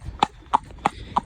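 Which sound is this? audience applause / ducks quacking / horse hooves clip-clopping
horse hooves clip-clopping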